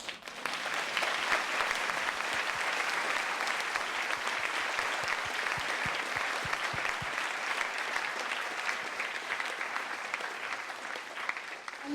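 A lecture audience claps after a talk on CRISPR systems, a long, even wash of dense applause that holds steady and loud without talking.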